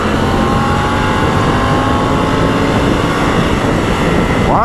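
A Triumph Tiger 900 GT Pro motorcycle accelerates under a continuous loud roar of engine and wind, the rider's pass steady and close with no voices.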